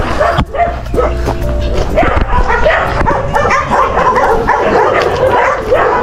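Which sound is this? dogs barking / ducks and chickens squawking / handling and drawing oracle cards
dogs barking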